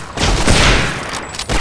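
A dense burst of gunfire in the WWII shooter game Hidden and Dangerous 2, with overlapping rapid shots rolling loudly and continuously for under two seconds and little talk above it.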